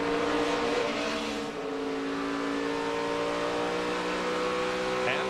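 Dale Earnhardt Jr.'s NASCAR race car from the 2009 Sprint All-Star Race, its engine a loud, sustained high-pitched roar with steady rising harmonic tones throughout, heard from onboard.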